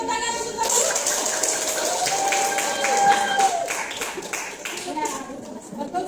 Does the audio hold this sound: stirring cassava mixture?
no